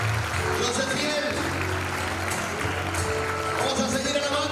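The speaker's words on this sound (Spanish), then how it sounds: "Démosle fuerte ese aplauso al Señor" Church congregation applauding the Lord during a Spanish-language worship service, a steady wash of clapping blended with music and voices that holds for the whole stretch.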